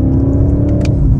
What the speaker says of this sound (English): I love the sound this V8 makes.